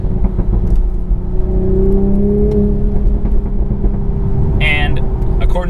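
A 2020 Toyota Supra with a turbocharged engine pulls hard, its drone rising steadily in pitch under loud road and cabin noise, with a brief whoosh near the end.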